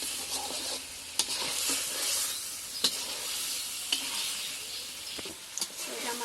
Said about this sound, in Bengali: ভালো নাড়া দিই আর একটু কষিয়ে তারপরে দিয়ে দিই